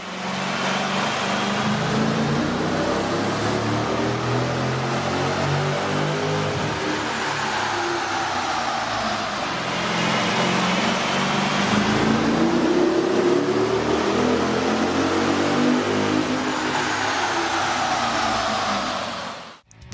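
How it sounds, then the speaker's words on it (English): A vehicle engine fitted with a K&N 69-2545TP cold air intake revs on a dynamometer, a loud, sustained roar that climbs and falls in pitch through repeated pulls for the whole stretch, with no talking. "With the air intake installed, we ran the vehicle on the dyno to test the sound comparison versus the stock intake."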